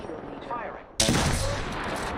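Gunfire in the video game Apex Legends, a sudden loud burst of shots that starts about halfway through and keeps going as dense, sustained firing after a quieter stretch with faint background sound.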